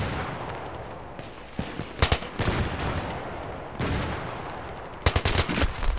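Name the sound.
gunfire in video game Battlefield 3, FAMAS or L85A2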